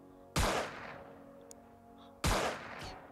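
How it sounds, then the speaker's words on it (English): Two heavy gunshots boom in a video game, each a sharp loud blast with a rumbling decay of nearly a second, spaced about two seconds apart, with faint small game effects between them and no talking. "Shoot the little guy."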